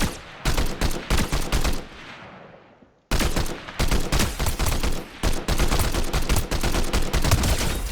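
Rapid bursts of combat shotgun fire from Fortnite Season 2, loud and close, pumped in repeated clusters with a short pause partway through before the shooting resumes.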